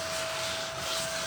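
A small handheld desk vacuum cleaner runs close by with a steady airy roar and a thin constant whine throughout, no voices.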